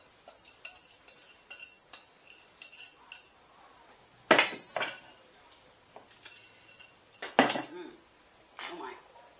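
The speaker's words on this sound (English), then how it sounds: "you want to give it a good old mix" A spoon or utensil mixes coleslaw of cabbage, carrots and onion in a bowl, giving a series of light clinks and taps followed by a few louder scraping stirs, close and fairly quiet.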